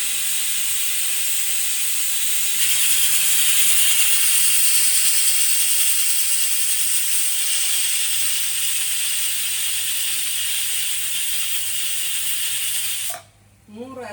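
A pressure cooker of onion garlic rice on the stove lets out a long, steady, high-pitched steam whistle and hiss that runs loud and unbroken for over ten seconds, then cuts off abruptly.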